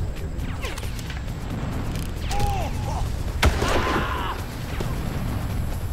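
Two or three sharp sniper rifle gunshots ring out in Far Cry over a steady background hum, the loudest a single crack near the middle, with brief tonal game sounds between.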